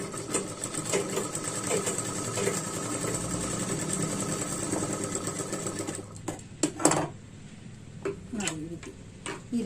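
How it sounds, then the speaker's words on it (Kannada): Sewing machine running steadily for about six seconds while stitching the hook side of a blouse, a fast continuous mechanical whir, then short stop-start bursts with brief pauses. "ಬನ್ನಿ ಇವಾಗ ಈ ಸೈಡ್ ನಾವು ಬಟನ್ ಸೈಡ್, ಹುಕ್ ಸೈಡ್ ನಾವಿಲ್ಲಿ ಇಲ್ಲಿಂದ ಇಲ್ಲಿಗೆ ಸ್ಟಿಚ್ ಹಾಕೊಳ್ಳೋಣ."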